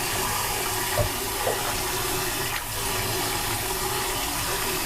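Pork ribs rinsed under a running tap in a kitchen sink, water pouring and splashing in a steady loud rush, close by, with faint handling knocks underneath.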